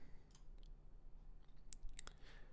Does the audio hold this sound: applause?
no